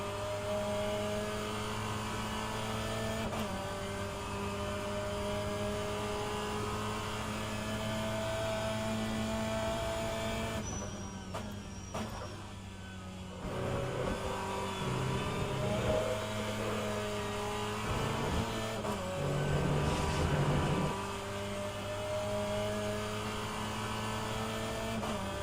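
A BTCC touring car races around Monza in a sim-racing game, its engine giving a steady, droning whine with a brief dip and shift in tone partway through. No voices are heard.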